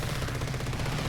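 Rapid machine gun fire from a single-gun plane in War Thunder, a steady continuous rattle of shots that stays loud and dense from start to finish, with no talk.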